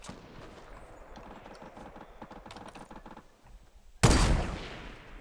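Rapid gunfire in Fortnite Battle Royale, a dense rattle of repeated shots for several seconds, then a loud, close blast that trails off, with no voices.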